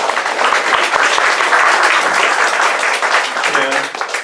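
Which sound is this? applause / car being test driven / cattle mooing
applause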